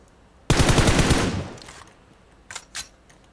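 Loud close burst of automatic rifle fire in PUBG Mobile, a rapid rattling string of shots lasting about a second, followed by two shorter distant pops.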